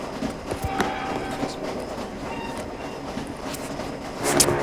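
A passenger train rolls past in a video game, a steady mid-level rumble with faint clattering wheel noise running throughout and a brief louder swell near the end.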